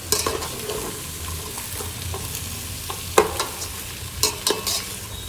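Onions and fresh peas sizzle and fry in a pan for biryani while a spoon stirs them, giving a steady crackle broken by several louder scraping stirs close by.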